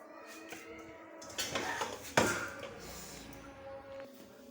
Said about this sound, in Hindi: अब हम इसको डिश आउट करते हैं।